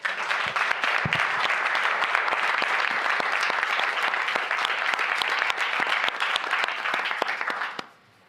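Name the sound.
thunderous applause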